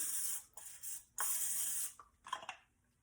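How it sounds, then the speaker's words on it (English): Several short hissing bursts of aerosol cooking spray onto a muffin pan, close and crisp, separated by brief pauses, the last ones shorter and fainter. "And just spray."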